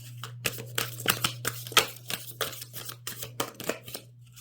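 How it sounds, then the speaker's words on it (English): Tarot cards being shuffled by hand, a quick series of crisp riffling and slapping bursts at close range over a steady low hum, with no talking. "we'll do a couple more shuffles here."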